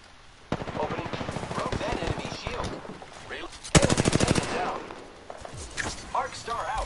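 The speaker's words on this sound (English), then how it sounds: "enemies are shooting at me" Enemies in a video game shooter fire automatic weapons in rapid, stuttering bursts, loud and close, with a sharper volley midway, while a player talks over the gunfire.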